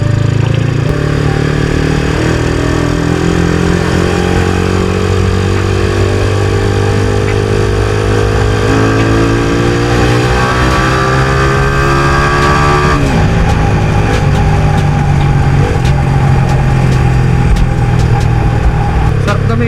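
A Rusi RKS 150 motorcycle engine runs steadily and loudly close by, its rising revs giving a strong, continuous drone with a brief pitch change partway through.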